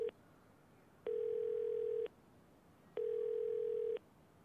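Payphone dial tone in the video game Yakuza 0, a steady electronic tone sounding in two separate one-second bursts with silence between, clear and close with no talking.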